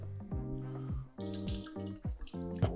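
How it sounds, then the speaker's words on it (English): Rice being rinsed and washed under a running tap for sushi, water gushing and swishing in a sink with repeated stirring surges and splashes close by. "This rice then needs to be washed."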